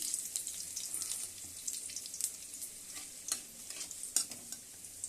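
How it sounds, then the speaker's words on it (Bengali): Cumin seeds, bay leaf, garlic and dried red chilli sizzle faintly in hot oil as tempering for taro greens, with soft crackling and occasional stirring scrapes close by. "ভাজা হয়ে গেছে ফোড়নটা"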